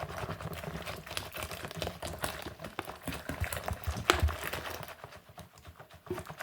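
Batter is whisked briskly by hand in a bowl, a steady run of quick scraping, clattering strokes that carry on for several seconds, close and moderately loud, with no talking.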